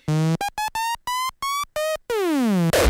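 A synthesizer plays a sequence of short, bright, buzzy stabbed notes in a stepped rhythm, then a long note sweeping downward in pitch, ending in a burst of noise.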